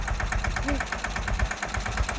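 A tractor engine runs close by in a cotton field, throbbing in a steady low, even rhythm like a diesel at idle, with faint vibration and rattle throughout.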